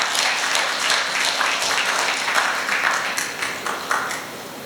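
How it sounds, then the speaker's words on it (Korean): Forum attendees in a historic hall give sustained applause to welcome a governor to the podium, a thick, even patter of many hands continuing steadily throughout. "큰 박수로 환영해 주시기 바랍니다."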